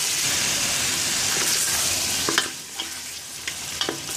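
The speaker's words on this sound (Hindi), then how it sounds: "जिंजर गार्लिक पेस्ट के साथ गोश्त को अच्छी तरह से भून लीजिए।" Bone-in meat fries in ginger garlic paste with a loud, constant sizzle, while a utensil stirs and scrapes against the pan several times.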